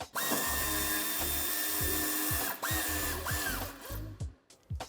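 A power tool drives out a screw on a 2018-2024 Dacia Duster II during a tow hitch installation, whirring steadily with repeated pitch swoops as the motor speeds up and slows, then trailing off into a few short bursts.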